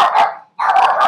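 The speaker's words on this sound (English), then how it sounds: "You hear the dog." A dog barks close by, two short loud bursts separated by a brief pause.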